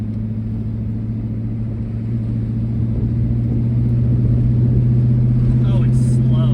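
A 1980s Ford F250 diesel farm truck drives in fourth gear at about 55 mph and 2,000 RPM, with a steady low engine drone and road rumble that swells slightly, and a voice speaking over it.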